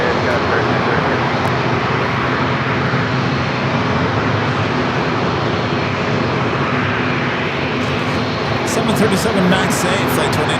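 A Southwest Boeing 737 MAX 8 jet bound for Las Vegas roars steadily and loudly at San Diego airport, a sustained broadband engine rush that swells slightly near the end, with voices talking over it throughout.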